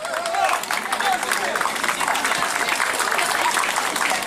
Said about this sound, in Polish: Gorące brawa dla ochotniczych straży pożarnych.